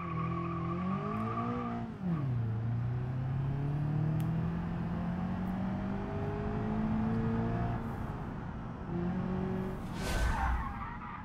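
A race car in a driving video game screams through a lap, engine pitch rising and falling through gear changes, with tire squeal and skidding on the corners and a whoosh near the end.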